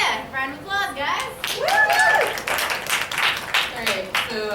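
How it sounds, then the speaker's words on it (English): Students applaud a speaker at a fall impromptu speech contest, dense clapping with whoops and a voice rising over it, close and lively throughout. "Round of applause, guys."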